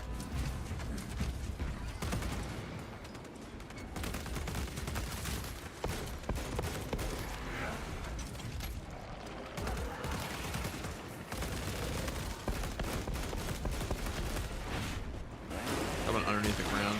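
Rapid bursts of video game gunfire keep up a dense, sustained barrage with mechanical clatter from a tactical shooter, and a player's voice mixes in among the shots.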